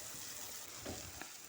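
Vegetables frying in a pan for masala pasta, giving a steady, close sizzle throughout with light stirring scrapes, no voices.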